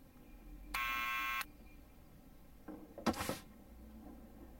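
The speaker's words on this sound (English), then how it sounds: "Buzzer!" A buzzer sounds in the Back to the Future adventure video game: one flat electronic buzz lasting under a second, then a brief clatter and a louder thump with a short rattle, all over quiet background.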